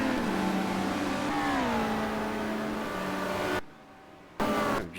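Touring race cars at Monza in a 1990 World Touring Car Championship race roar past, engines droning and sliding in pitch as they shift and overtake, then the sound cuts out abruptly before briefly returning.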